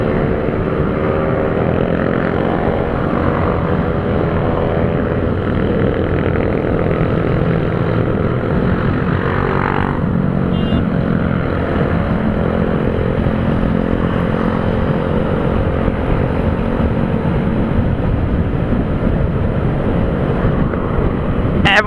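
Motorcycles on a group ride toward Serra Dona Francisca produce a loud, continuous engine drone mixed with wind rush that stays close and steady for the whole stretch, with no one talking.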